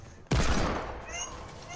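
Gunfire in Fortnite, a sudden loud close burst of shots that hits sharply and then rings and tails off into lingering game noise, with faint chatter around it.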